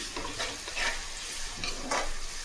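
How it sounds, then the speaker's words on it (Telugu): Onions with ginger garlic paste frying in a pan for a gongura prawn curry, a close steady sizzle broken by a few scraping stirs, no voices. "ఈ ఉల్లిపాయలు అల్లం వెల్లుల్లి పేస్ట్ కూడా దోరగా వేగే వరకు వేయించుకోవాలి"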